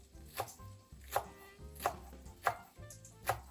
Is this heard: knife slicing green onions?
yes